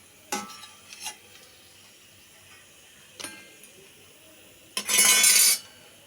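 Spices for brinjal kuzhambu dropped into hot oil: a few clinks of a utensil against the pan, then a loud, bright burst of sizzling and spluttering lasting under a second.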